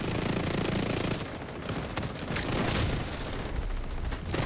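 Video game gunfire rattles in dense rapid bursts, loud and continuous with short dips between volleys.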